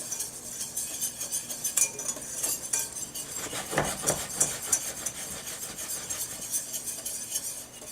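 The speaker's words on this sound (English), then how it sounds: "with our whisk, incorporate all these ingredients all real nice" A whisk clinks rapidly against a bowl while stirring a flour and baking soda batter, with a steady scraping, tinkling rhythm that swells in the middle and carries on alone without speech.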